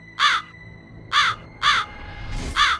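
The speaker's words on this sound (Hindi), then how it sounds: "अब हर एक भोर और सांझ को कौवा झरोखे पर आ बैठता।" A crow caws four times in a cartoon story, sharp, loud, close calls spaced unevenly with brief pauses between them, with no voice over them.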